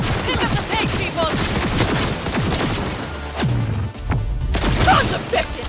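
Gunfire in the video game Cyberpunk 2077, rapid overlapping shots and crashes in a chaotic firefight, with shouting voices mixed in throughout.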